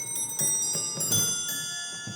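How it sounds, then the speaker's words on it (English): A quarter-chiming antique clock movement on display in a museum plays a short tune of soft, ringing bell-like tones struck every few tenths of a second, each note sustaining and overlapping the next. "this is actually a quarter chiming movement, which is different from a musical movement in that it plays a small piece of music on the quarter"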